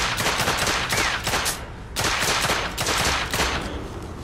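Gunfire in The Order: 1886, loud rapid bursts of automatic shots in two sustained volleys separated by a short pause, close and dominant with no talking.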